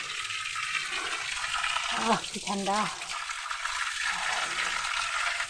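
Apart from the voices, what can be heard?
waterfall flowing water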